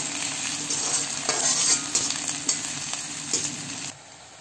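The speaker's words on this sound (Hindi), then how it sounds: "अब इसको हम गोल्डन ब्राउन होने तक भूनते रहेंगे प्याज को" Chopped onions fry in hot oil with a continuous close sizzle and repeated utensil scrapes as they are stirred, ending abruptly near the close.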